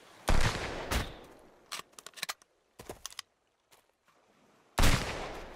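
Gunfire rings out in a survival video game, with loud sharp bursts at the start and end and scattered lighter shots and clicks in between.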